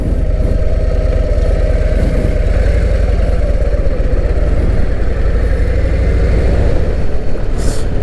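A Harley-Davidson Road Glide motorcycle engine idles close by with a loud, deep, steady throbbing rumble that stays constant throughout, with no voices.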